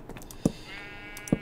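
A Minecraft sheep lets out two short bleats, brief and fairly close, spaced almost a second apart over a quiet background.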